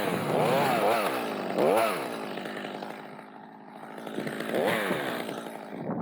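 Chainsaw cutting through a eucalyptus tree branch during tree removal, the engine loud and close with repeated revving surges as the blade bites into the wood.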